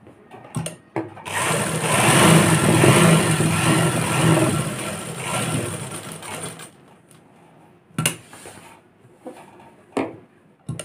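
A sewing machine stitches a pocket onto palazzo pants in one loud, fast, continuous run lasting several seconds, followed by a few short clicks and handling sounds.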